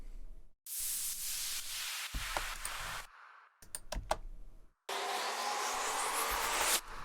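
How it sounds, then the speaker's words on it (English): Synthetic white noise uplifter and downlifter effects from an electronic music production: bursts of broadband hiss that swell and fall away, with short gaps of silence between sweeps and a final long rising noise wash. "Here, for example, like my uplifters, downlifters, just some white noise."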